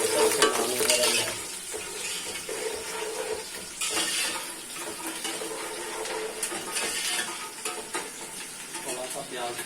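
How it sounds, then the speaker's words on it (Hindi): Onions fry with beef trotters in a pot, a continuous close sizzle with bubbling and the scrape of stirring that comes and goes. "थोड़ा सा प्याज फ्राई होगा"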